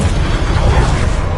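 The Incendio fire spell in Hogwarts Legacy roars out as a loud, continuous rumbling whoosh of flame, close and dense throughout, with no talking.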